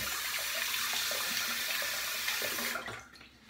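Tap water running steadily over hands being rinsed at a sink during a shave, a close, even hiss of flowing water that cuts off abruptly near the end.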